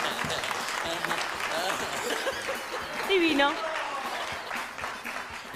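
A studio audience on a game show claps in a fairly steady wash of applause under a lively host's voice, with a brief burst of laughter and cheering midway.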